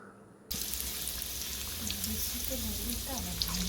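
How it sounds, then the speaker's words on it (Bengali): Potatoes hit hot mustard oil in a pan, and a sudden loud, steady hiss of frying bursts in and keeps going close by. "এবারে তেল গরম হয়ে গেছে, আলুগুলো ভেজে তুলে নেব।"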